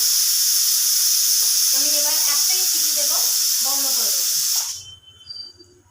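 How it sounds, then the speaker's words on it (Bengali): A pressure cooker vents steam through its whistle in a home kitchen with a loud, steady, close hiss, while a voice speaks underneath. The hiss cuts off abruptly near the end, leaving faint kitchen noise. "তো বন্ধুরা সিটি উঠে গেছে ওখানে"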